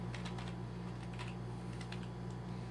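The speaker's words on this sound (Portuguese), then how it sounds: "Dou Ctrl Enter e pronto." Computer keyboard typing in quick, light clicks over a steady low electrical hum, ending in a final key press, with no voices.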